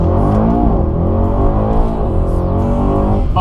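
A tuned 700 hp 2018 Mercedes-AMG E63S in race mode pulls hard in first gear, its engine note climbing loud and close through rising revs with a brief shift-like break near the end.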